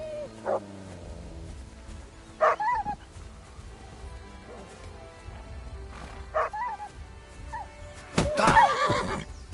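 Mutt, a dog in Kingdom Come: Deliverance II, gives a few sharp barks and yips at intervals, with a louder cluster of barking near the end over quiet outdoor ambience.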